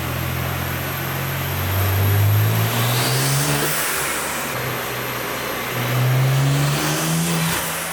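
A tuned BMW M2 G87 engine revs hard on a dyno running 91 octane fuel, with two loud rising pulls that swell and climb in pitch, the second surging again near the end.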